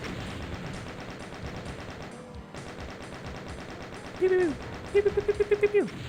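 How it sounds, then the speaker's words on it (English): Plasma gun and shotgun fire in the Doom video game, a steady rapid crackle of shots under talk, then a short burst of rhythmic weapon pulses and tonal blips near the end. "Plasma one, and then give the other a combo of bullets and shells."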